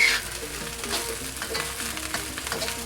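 Fried rice with char siu sizzles in a pan over medium heat, its fat coating the rice. A moderate, steady crackle is broken by a few light stirring scrapes, with no talking.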